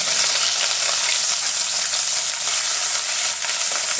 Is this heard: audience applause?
no